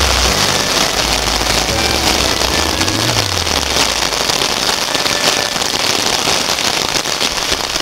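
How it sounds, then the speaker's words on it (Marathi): Dense, steady monsoon rain hiss fills the whole stretch near a village temple, loud and continuous, with a low rumble and brief low tonal hum near the start. "आज पाऊस पण खूप आहे"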